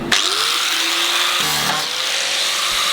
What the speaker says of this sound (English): just put the grinder on there very slightly.